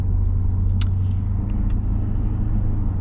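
A 2021 Ford Ranger Tremor truck engine shifts into third gear on a snowy canyon drive, heard as a steady, close, loud low rumble with faint higher whines and no talk.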